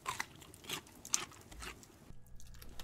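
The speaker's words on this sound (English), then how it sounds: "Why does a potato crunch?" Cooked potato being eaten in the video game Raft, a few faint crisp crunching bites spaced unevenly, quiet and close with low background hiss.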